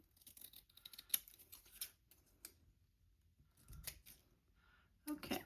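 Scissors give faint, close snips along paper edges: scattered quick crisp cuts in small bursts, separated by near silence.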